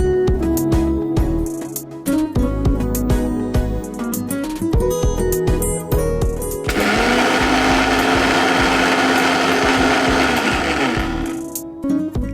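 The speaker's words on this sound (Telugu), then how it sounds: "దీన్ని మిక్సీ పట్టేసుకుందాము" A mixer grinder powders sugar, first whirring in short pulsed bursts, then running in one loud, steady, high-pitched whine before cutting off. No voices.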